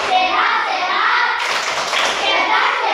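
Schoolchildren in a classroom clapping through a rhythmic greeting clap game, a dense run of hand claps with young voices chanting along throughout.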